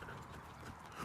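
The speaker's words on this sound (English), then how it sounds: "And ask my horse to back up." A horse's hooves clop softly on the ground as it steps backward, a few close, muffled footfalls in quick succession.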